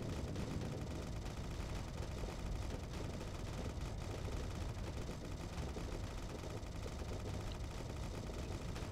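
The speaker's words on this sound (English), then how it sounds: "Two machine guns." Machine gun fire during a space battle in the game Starsector, a dense, unbroken clatter of rapid shots that stays at a steady level throughout, with no talk over it.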